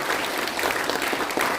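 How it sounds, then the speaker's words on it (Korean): A room full of people at a Korean civic assembly for liberal democracy claps in welcome, a dense, steady burst of applause close by and sustained throughout with no voices over it. "환영의 박수 한번"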